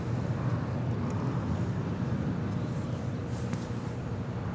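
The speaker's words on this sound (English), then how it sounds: "We do have that Turkish Airline Dreamliner making her way over to 25 right for a Southside" Turkish Airlines Dreamliner taxiing toward runway 25R at LAX for a south-side departure, a steady low engine rumble and whine heard from a distance, constant with light wind noise.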